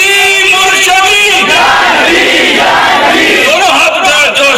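Many voices in a big gathering in Faisalabad shout a religious slogan back in unison, a loud continuous crowd chant that swells and holds without pause.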